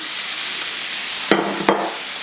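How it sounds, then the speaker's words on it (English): A seasoned steak sears in a hot oiled pan, giving a loud, steady broadband sizzle that fills the whole stretch, with two brief sharp clicks near the end and no speech. "We'll get our steak at room temperature, seasoned, into the pan."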